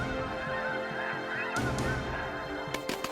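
Wild birds at an organized American hunting competition honk repeatedly in a dense, overlapping chorus, close and loud, with a few sharp bursts near the end.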